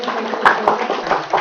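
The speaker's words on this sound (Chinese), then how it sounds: "今晚以热烈的掌声来欢迎我们的王讲师呢" Audience applause welcoming a lecturer to an evening class on the Zhongyong classic: continuous dense clapping from a room of people, steady throughout with a few louder bursts.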